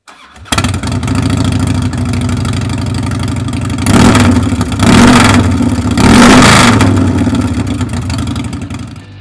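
A 2002 Harley-Davidson Softail Deuce (FXSTDI) with Vance & Hines exhaust and an open air intake starts and runs close by, a loud steady V-twin rumble with three stronger throttle blips partway through, and no talking.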